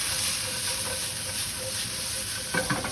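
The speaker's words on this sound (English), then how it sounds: "And now we can add our sugar snap peas, our sweet peppers. Give that a quick saute." Sugar snap peas and sweet peppers saute over high heat in a pan, a steady close sizzle and hiss with a brief stirring clatter near the end.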